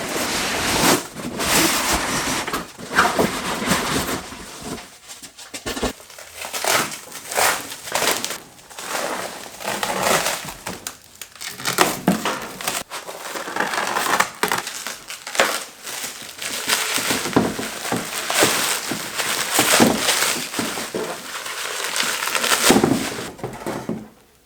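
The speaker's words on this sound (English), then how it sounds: "I'm gonna unbox this huge package right here that's pretty tall" A large, tall package being unboxed, with loud close crinkling, crumpling and tearing of packaging material in irregular bursts throughout.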